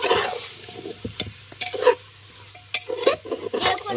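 Mutton stirred in a pot over a village wood fire: scraping, sloshing strokes in bursts, with sizzling and the crackle of the fire between them, close and fairly loud.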